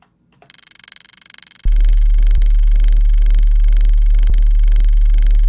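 A synthesized sub bass built from a sine wave comes in as a loud, sustained low drone with a buzzy rattling texture, preceded by a quieter pulsing rattle that builds up before it.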